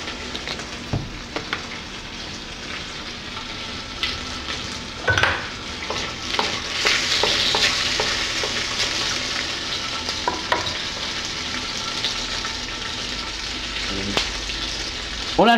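Shrimp stir-frying in hot oil in a pan for Chinese noodles, with a continuous loud sizzle, scattered sharp clicks and scrapes of a utensil, and a surge of crackling partway through.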